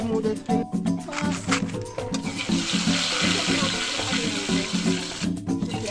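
Water runs and splashes steadily into a pot as it's rinsed during outdoor cooking, with clattering and scrubbing throughout, fairly close and loud.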